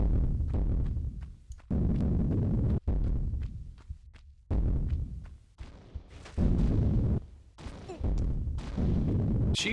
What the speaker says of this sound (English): There's this explosion noises in the distance